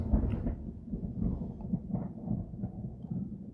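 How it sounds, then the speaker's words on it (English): Thunder rolls during a storm, a deep, low rumble swelling and fading continuously at a moderate distance, heard alone without talk. "Wow, thunder."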